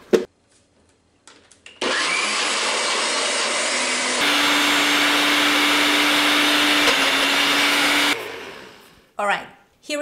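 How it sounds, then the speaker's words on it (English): A blender whirs through cooked beans for a seitan chorizo, running loud and steady for about six seconds, its pitch rising partway through before it cuts off, with brief clatter before and after. "We're going to blend that very well."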